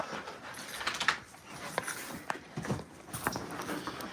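A dog pants in short irregular bursts nearby, mixed with paw shuffling and movement sounds at fairly low volume.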